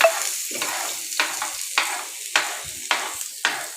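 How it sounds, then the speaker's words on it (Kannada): Food frying in a pan gives a steady close sizzle, broken every half second or so by sharp scraping strokes of a spatula stirring, with no talk. "ಫ್ರೈ ಮಾಡಿದೆ."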